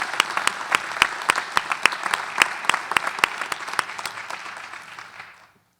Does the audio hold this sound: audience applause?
yes